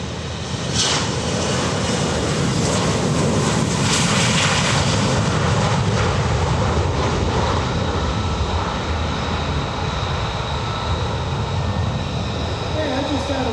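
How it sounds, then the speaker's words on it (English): A Gulfstream G650ER business jet roars steadily on takeoff at an airshow, a loud, sustained broadband engine rumble and whine that holds throughout, with voices faintly beneath it. "Let's listen to the sound of a modern biz jet."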